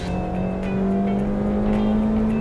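A car engine holds a loud, steady droning buzz at high revs around 4,000 rpm after a downshift, rising slightly in pitch as it goes, with road noise underneath.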